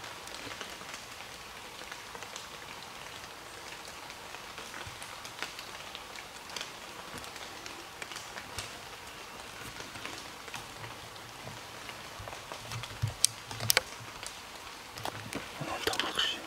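Rain falling in a forest, a faint, even patter of drops spread across the whole stretch, with a few brief louder knocks and rustles near the end.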